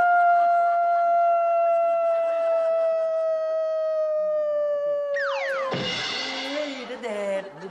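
A person imitates a dog howl as a sound effect for a ghost show, one long sustained howl with a gently falling pitch, followed by a louder, rougher burst of voice.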